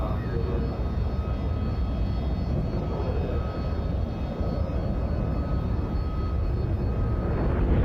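Steady broadband roar of a swing-wing jet aircraft at an air show, continuous and fairly loud throughout, swelling slightly toward the end.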